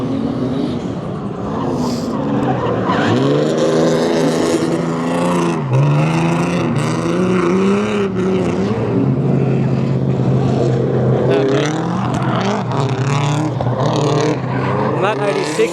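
A turbocharged Toyota 86 with a front-mounted intercooler drifts at an event, its engine revving up and down in loud swooping pitches under continuous talk throughout.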